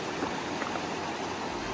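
Paint Rock Creek in Wyoming flowing steadily, a close, even wash of rushing water with no break.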